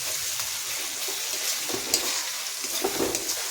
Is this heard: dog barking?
no